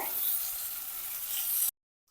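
Chopped onion and tomato sautéing in oil in a pan for a Kerala double beans dish, a close, bright sizzling hiss that cuts off abruptly into silence.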